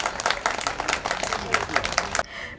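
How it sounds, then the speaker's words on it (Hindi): An audience at a women journalists' honour ceremony in Udaipur claps in a burst of applause, lively and uneven, before it drops away abruptly near the end. "जोरदार तालियां बजाइए एक बार"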